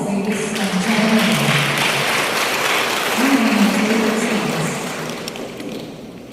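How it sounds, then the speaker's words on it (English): Loud, sustained applause from a crowd at a police turnover of command ceremony, continuous clapping with a low tonal murmur underneath, tapering slightly at the close. "A warm applause, ladies and gentlemen."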